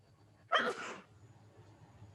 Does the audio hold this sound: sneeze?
yes